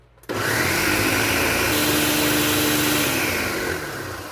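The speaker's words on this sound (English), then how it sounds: "we're going to go ahead and blend." A blender switches on abruptly and whirs loudly and steadily for a few seconds, mixing vanilla custard pie filling, its motor pitch dipping slightly toward the end.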